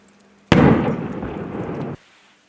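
A Gazex gas exploder fires for avalanche control on a ski slope: one sudden loud blast with a broad roaring decay that lasts about a second and a half, then cuts off, with no talk over it.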